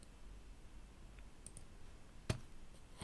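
A single sharp computer mouse click, quiet and close, during work with a contacts and email-sending application, over a low steady background hum.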